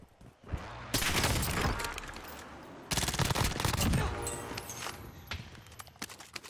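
Video game gunfire in two loud, dense bursts of rapid shots, the first starting near one second and the second near three seconds, with scattered single shots trailing off afterward and no talk.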